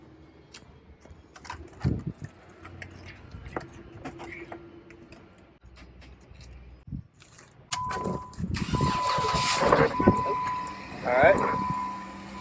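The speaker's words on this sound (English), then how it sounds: "Engine sounds healthy" A wrecked Jeep Wrangler's engine cranks and catches about two-thirds through, then settles into a loud steady idle after a short spoken word and some clicking handling noises.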